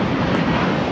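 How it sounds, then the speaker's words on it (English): An American Airlines Airbus A321 takes off at Los Angeles International Airport, producing a loud, steady jet roar that fills the whole second with no break. "This is American Airlines 2293 taking off to Phoenix on an A321."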